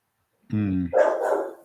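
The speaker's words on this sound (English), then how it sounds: "Can you shut that dog up?" A dog gives a single short bark with a whiny, howl-like tail, close and loud against otherwise quiet surroundings.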